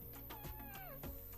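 One soft, drawn-out meow from a house cat rises and then slides down, quiet against a steady background hum.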